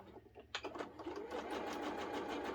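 A sewing machine runs steadily while stitching a straight quarter-inch seam along a quilt border, starting with a few short bursts and then settling into a continuous, close whirring hum to the end.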